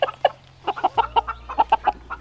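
Silkie chickens on a homestead farm cluck in a quick series of short, close, fairly loud calls, about a dozen in a rapid, uneven rhythm, with a low steady hum behind them.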